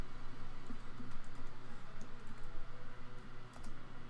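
Quick tapping of keys on a computer keyboard, a steady run of light clicks close up over a constant background hum, with no voices.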